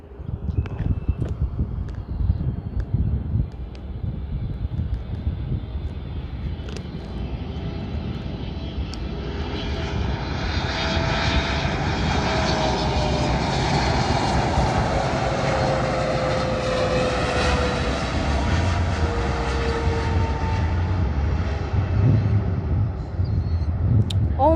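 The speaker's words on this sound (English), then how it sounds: "Boeing 777-3F2ER from Turkish Airlines" Turkish Airlines Boeing 777-3F2ER at Chicago O'Hare, jet engines roaring steadily and swelling in a long whooshing rise, heard from a distance over constant airport rumble.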